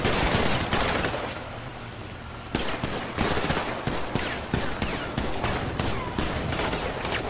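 Rapid bursts of gunfire crackle through a movie trailer action scene, loud volleys of automatic fire interspersed with single sharp shots, up close and alone without talk.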